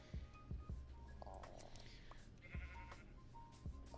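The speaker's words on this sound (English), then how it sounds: "Let me go shear these sheep" Sheep in the Minecraft video game bleat several times in short bursts, close and clear, over a low steady background hum and other game sounds.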